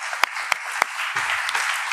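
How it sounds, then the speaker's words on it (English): Audience applause at a mind-power talk at NIT Warangal: a brief burst of clapping with a few sharp, distinct claps standing out, then a denser patter of hands from the room. "Give him an applause."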